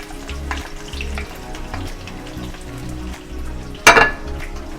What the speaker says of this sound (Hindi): देखिए, पैन में हमने अपना ऑयल ले लिया है और इसमें हम पहले प्याज डाल देंगे।